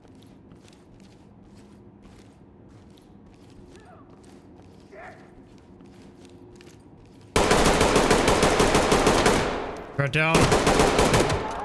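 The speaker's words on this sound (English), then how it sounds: "They're shooting" Gunfire in the tactical shooter game Ready or Not during an active-shooter mission: after a quiet stretch with faint steps and a brief spoken line, loud rapid automatic bursts break out close by, pause briefly, then resume.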